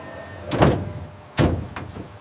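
Two heavy thuds of a Boeing 787 Dreamliner aircraft door closing on the factory floor, each a short dull impact with a rattling tail, separated by about a second.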